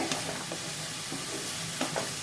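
Chopped onions sizzle steadily in hot oil in a pan for palak paneer, with a spatula scraping and stirring through them in soft, irregular strokes, close and moderately loud with no talking.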